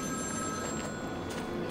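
An in-game telephone rings in Batman: Arkham City, a steady electronic bell tone that sounds quietly and without pause under low background ambience.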